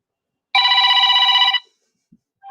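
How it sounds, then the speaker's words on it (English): A phone ringtone sounds once, a bright, pulsing electronic ring lasting about a second, close and clear against silence. "I forgot to turn my ringtone back up in case work calls."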